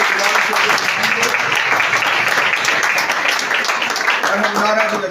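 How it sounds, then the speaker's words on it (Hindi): Loud, dense applause fills a church gathering, a continuous roar of many hands clapping close by with crowd voices mixed in, sustained without a break. "जोरदार तालियां"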